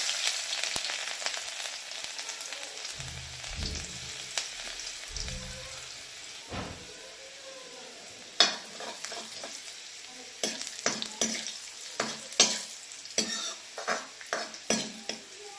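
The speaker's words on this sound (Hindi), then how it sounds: "अब मैंने इसमें डाल दिया थोड़ी सी हींग, डाल दूंगी थोड़ा सा लहसुन बारीक कटा हुआ" Finely chopped garlic, cumin and asafoetida fry in hot oil, giving a soft sizzle. A spoon scrapes and stirs against the pan in quick, sharp clinks that grow busier later on. There is no talk.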